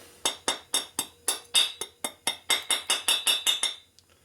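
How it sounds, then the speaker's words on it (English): A hammer knocks a burr off a Harley panhead race engine part in a run of about fifteen sharp metallic strikes, quick and evenly spaced, ringing bright and close in a quiet shop. "So I just use a hammer"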